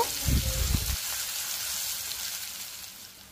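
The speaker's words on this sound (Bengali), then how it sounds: "এরপর এটাকে 3-4 মিনিটের জন্য নাড়াচাড়া করে আমি ফ্রাই করে নেব" Onions sizzle and crackle as they are stirred in a hot pan, with a burst of scraping and stirring at first and then a steady fry hiss.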